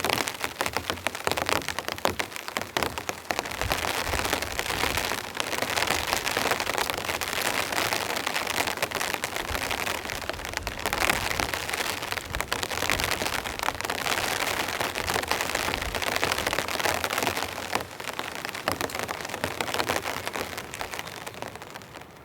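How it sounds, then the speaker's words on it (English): Freezing rain pours steadily onto an inflatable air tent during rainy car camping, a dense, continuous patter of drops close overhead that holds at an even loudness throughout, with no talking. "And the nice freezing rain's coming down."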